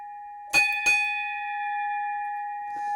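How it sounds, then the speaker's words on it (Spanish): A bell is struck twice in quick succession, then its clear metallic tone rings on and slowly sustains, with a faint tap near the end. "Este sonido de las campanas."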